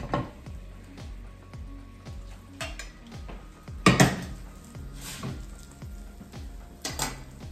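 Chicken pieces sizzle skin down in a cast iron pan, a steady close frying hiss broken by scrapes and sharp metallic clanks of a utensil against the pan, with no talking.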